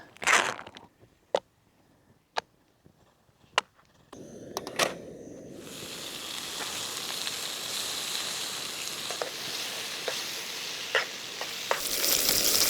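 Bacon frying in a pan at a winter campsite: a few sharp ticks and pops over near-quiet air, then a loud, steady sizzle that builds and continues with scattered crackles close by.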